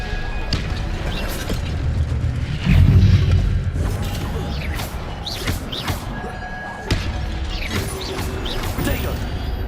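A Stupefy spell cast in Hogwarts Legacy: a loud thudding impact with a rumbling boom, surrounded by clattering, creaking mechanical clicks and whooshes from an ongoing duel.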